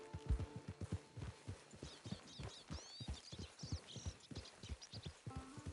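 A horse's hooves clip-clop in a steady, close rhythm in a PS4 video game, the regular thuds joined by faint high chirping in the background and no speech.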